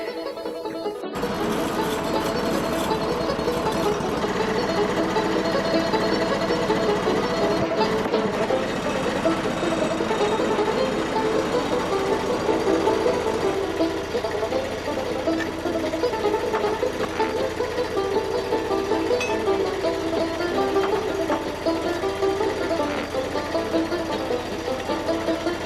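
A Norwood portable sawmill with automatic dogging assist runs steadily as its blade cuts through a log, a continuous loud mechanical drone with a dense whine that holds for the whole stretch and no talking.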